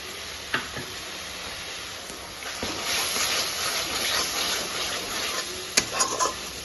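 Sour yogurt added to a frying green chili spice paste in a pan for young jackfruit kofta, a soft hissing sizzle with a few sharp clinks and scrapes of stirring, growing slightly louder midway.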